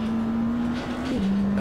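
Hypercar engine in the Automobilista 2 racing game, a muffled, steady mid-pitched drone holding one tone with a slight drop near the end, heard alone.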